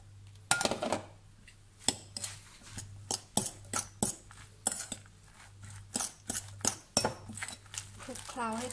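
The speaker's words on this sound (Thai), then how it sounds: "เดี๋ยวคนให้เข้ากันสักหน่อย" Batter is stirred in a bowl, a spoon or utensil knocking and scraping against the sides in irregular clinks and taps, close and fairly loud, with a low steady hum underneath.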